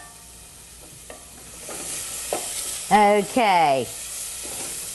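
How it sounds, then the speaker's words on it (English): A pan of cheese sauce sizzles steadily on the stove after chicken broth is added, a close, even hiss throughout, with a person briefly speaking near the end. "This is really starting to sizzle right now"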